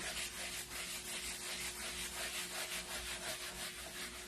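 Wax rubbed by hand over a wooden board, a steady soft swishing scrape in even back-and-forth strokes, close and quiet with no talking.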